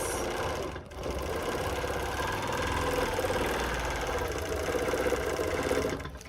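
A sewing machine stitches free-motion quilting across a double wedding ring quilt, running at a steady, continuous hum with a brief dip near the start, close and alone with no talk.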